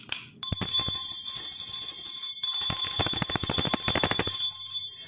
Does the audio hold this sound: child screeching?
no